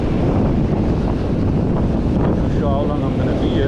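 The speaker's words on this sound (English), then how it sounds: "Very windy this morning." Strong wind buffets the microphone at the seashore in Isipingo during a fishing outing, a loud constant roar with surf beneath, while someone speaks briefly over it.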